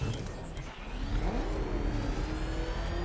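In the Batman Arkham Knight video game, the Bat Tank's engine revs with a steady mid-pitched roar and a rising whine, continuous and fairly loud, with no talking.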